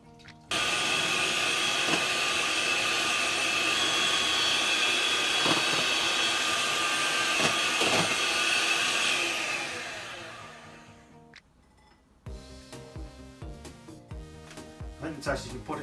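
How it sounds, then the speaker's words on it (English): Egg whites are beaten to stiff peaks with an electric whisk for a chocolate mini roll bake, a loud steady whine that fades out, followed by quieter kitchen clatter and talk. "whisk the egg whites to stiff peaks"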